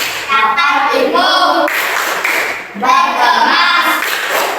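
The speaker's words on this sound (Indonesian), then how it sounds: "Kemudian kita tepuk pulang." Primary schoolchildren in a classroom perform a rhythmic going-home clapping routine, clapping in patterned bursts between loud sung or chanted phrases from the class.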